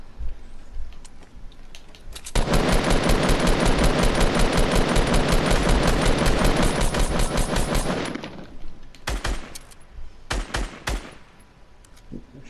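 Sustained automatic gunfire in Fortnite rattles off in a long dense burst for several seconds, followed by scattered single shots and short bursts, loud and close with no talk over it.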